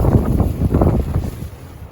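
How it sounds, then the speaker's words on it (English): Violent Bura wind on a Croatian campsite buffets a tent, making a loud, rough rumbling roar with flapping gusts, close to the microphone and strongest in the first second before easing slightly. "wind is so violent"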